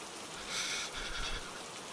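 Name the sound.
rain in the video game Hurtworld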